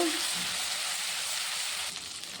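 Ginger paste frying in hot oil with a little asafoetida and turmeric, a dense steady sizzle heard close, briefly softening near the end.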